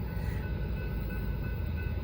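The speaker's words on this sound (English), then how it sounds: "Southbound, my first train of the night." A southbound Norfolk Southern freight train rolls past at night on the Charlotte District near Gaffney, South Carolina, giving a steady, dense low rumble of wheels and cars that holds evenly without a horn.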